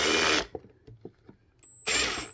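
A power drill drives a screw into a makeup vanity set, with two loud sustained whirring bursts at the start and end and quiet handling knocks between them.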